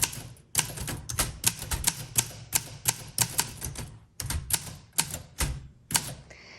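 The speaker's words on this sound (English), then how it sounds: "you can just type" Someone types on a 1963 Olympia SM7 manual typewriter with a steady run of sharp, close key strikes and short pauses. Near the end comes a brief mechanical whir, and no voices are heard.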